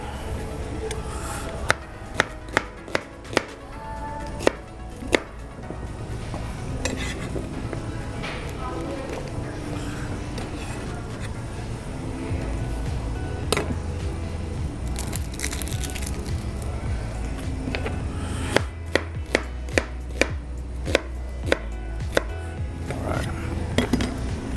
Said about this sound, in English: and then we're gonna cut up an onion to put inside the bag with the pork.